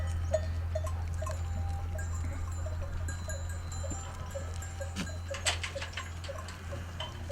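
Small bells clink irregularly over a steady low hum, with occasional soft bleats and rustling from a nearby herd of Honamlı goats.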